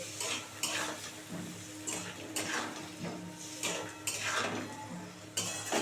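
A spoon scrapes in repeated rhythmic strokes through an olive pickle with sugar, jaggery and a little water heating in a pot, over a soft, low bubbling sizzle.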